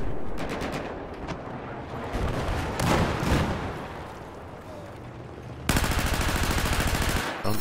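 Battlefield 4 gunfire on the Firestorm map: scattered shots and bursts crackle through the first half, then a dense rapid-fire burst hammers steadily near the end, with a voice talking over the battle.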